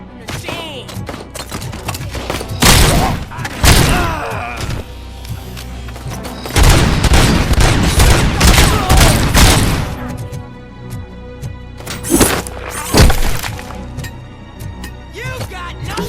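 Gunfire in the video game RoboCop: Rogue City on PS5, with loud bursts of shots and heavy thuds coming in clusters through a busy combat mix, while voices shout now and then.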